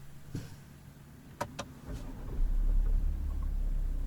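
A Volkswagen Touareg 3.0 TDI V6 diesel starts up: a couple of sharp clicks, then a low engine rumble rises and settles into a quiet, steady idle heard from inside the cabin.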